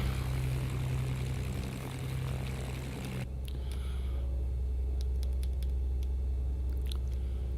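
A Beechcraft Baron propeller plane engine drones in the X-Plane 11 flight simulator, a steady loud hum that drops to a quieter, thinner tone partway through, with no talking.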